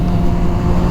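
Kawasaki sport tourer motorcycle underway at speed, a steady, loud engine and wind roar with a strong low drone running continuously throughout, no voices.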